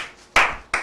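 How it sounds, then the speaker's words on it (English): Two sharp, isolated hand claps spaced apart in a slow clap, each loud and close with a brief decaying tail, heard alone against near silence. "Slow clap."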